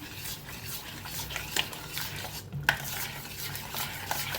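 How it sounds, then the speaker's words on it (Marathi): A spoon works saffron milk into thick shrikhand in a bowl, giving soft continuous scraping and stirring with a couple of sharper clinks against the bowl, close up and without talk. "आता छान असं मिक्स करून घ्यायचं"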